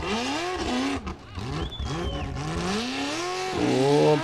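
A formula offroad car at full throttle roars up a steep hill climb at an Icelandic event in Akranes, the engine loud and close, rising and revving continuously throughout.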